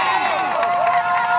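Crowd at the Ironman Hawaii 2019 triathlon world championship finish in Kona, a continuous mass of cheering and clapping with a public-address voice and chime-like tones ringing over it.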